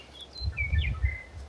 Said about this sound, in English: Oh, pretty birds.